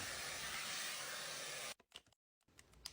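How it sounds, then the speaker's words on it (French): A hair dryer fitted with a smoothing nozzle blows a loud, steady airy roar while drying hair. It cuts off after under two seconds, leaving a few faint handling clicks. "on passe au séchage que je vais faire en 30 secondes chrono tellement c'est rapide"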